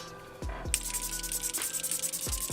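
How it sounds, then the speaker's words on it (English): A Catrice Dewy Glow Fixing Spray mist is pumped onto a face in quick bursts, several short airy hisses close to the microphone, the last one longer, set against quiet room tone. "I'm just going to be going back in with the Catrice Dewy Glow Fixing Spray"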